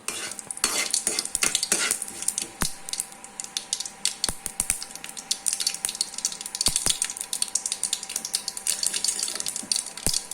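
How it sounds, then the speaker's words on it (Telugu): Mustard seeds and curry leaves sizzle in hot oil as a tempering for chutney, a close, steady frying hiss broken by sharp crackles and pops, with occasional stirring and a faint clink of a utensil. "ఆవాలు కరివేపాకు వేసి ఇంకా చట్నీ తిరగమాత అయితే వేశాను"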